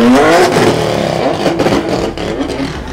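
A drift car at a round of the French drift championship revs hard to heat its tyres, a loud, close, throaty engine roar that rises and falls with clattering and scraping mixed in.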